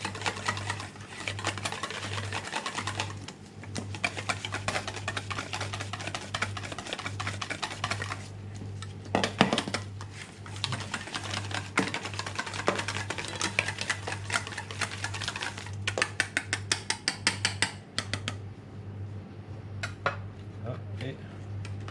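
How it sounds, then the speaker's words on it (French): Mascarpone whisked in a bowl while making lemon meringue and chocolate tarts, heard as a rapid, steady clatter of a whisk against the bowl running the whole time, with a low steady hum underneath and brief louder knocks. "je vais fouetter un petit peu le mascarpone"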